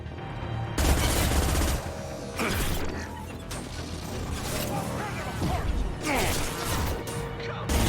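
Game gunfire during a Mass Effect 2 PC firefight: repeated loud bursts and sharp shots with mechanical clanks and impacts, dense and continuous throughout.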